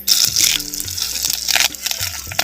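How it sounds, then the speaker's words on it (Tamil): Garlic and green chilies sautéing in oil for a fire-roasted banana flower chutney, a short close burst of bright hissing sizzle with a few stirring scrapes. "பூண்டு மிளகா பச்சை மிளகா எல்லாத்தையும் நல்லா எண்ணெயில் வதக்கு வதக்குன்னு வதக்குறேன்"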